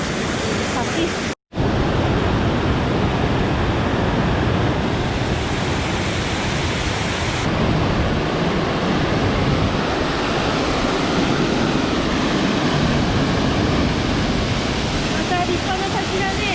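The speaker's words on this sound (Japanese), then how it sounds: "また立派な滝だね" A waterfall on a mountain stream roars close by as a loud, steady broadband rush, holding unbroken for the whole stretch apart from a split-second dropout near the start.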